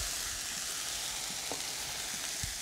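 Asparagus, red pepper and green onions sautéing in butter in a pan, giving a steady, even sizzle with faint crackles throughout and no talking.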